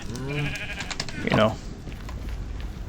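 A sheep bleats in a video game, a few wavering, nasal cries near the middle, with a person talking over and around them.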